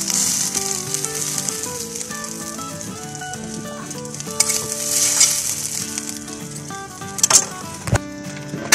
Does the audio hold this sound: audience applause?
no